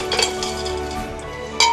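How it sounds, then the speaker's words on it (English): Chopped chocolate pieces clatter into a blender jar for a chocolate mousse, a short run of light clinks and rattles followed by a sharper clink near the end, close and fairly loud. "we're going to pour in our already chopped up chocolate in the blender."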